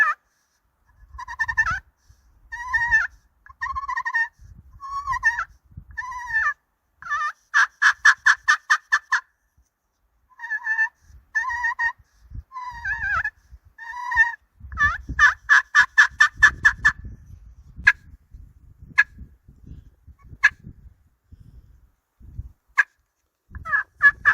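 A new HS Strut Cookie Cutter turkey pot call works through rolling purrs and clucks: bursts of rattling, trilled yelps, a fast stuttering purr run, then a few isolated sharp clucks, close and loud with scraping handling noise underneath.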